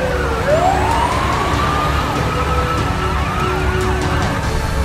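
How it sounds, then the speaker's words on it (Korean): A fire engine siren wails loudly and up close, its pitch sweeping up and down continuously over the rumble of traffic. "자, 소방차가 갑니다. 길을 비켜주세요."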